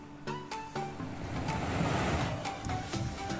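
Sea waves wash onto the white-sand Indrayanti beach beside a rock jutting into the sea, a steady surf rush with wind noise across the microphone and a few sharp knocks near the start.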